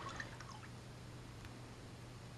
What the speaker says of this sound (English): there's kind of like a water drop sound.